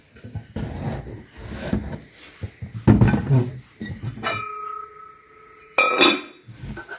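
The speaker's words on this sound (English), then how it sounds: "Oh, I forgot to show you the spoon that this one came with it." Metal spoon from an Our Place pot handled and clinked against the cookware, a few light taps and scrapes near and close, with a voice talking in between and a brighter ringing knock toward the end.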